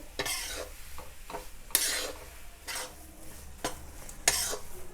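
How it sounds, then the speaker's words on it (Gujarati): Flour being stirred while roasting in ghee for laddu, with soft scraping strokes of a spoon against a pan and a few sharper metallic taps over a faint, quiet sizzle, heard close with no talking. "આવી રીતે લોટને સતત હલાવતા રહેવાનું છે, એટલે બધી બાજુથી લોટ છે બરાબર શેકાઈ જાય।"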